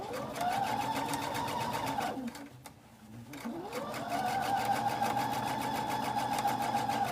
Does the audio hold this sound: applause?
no